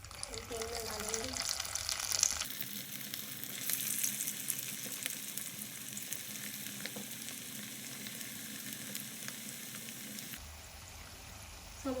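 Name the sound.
samosa rolls frying in oil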